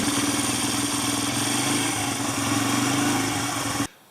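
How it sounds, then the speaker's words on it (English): Honda CRF80 dirt bike engine running with the rear wheel lifted, a close, steady buzzing idle that cuts off abruptly near the end. "I wanted to start the bike while the wheel was up to kind of make sure that it was running okay"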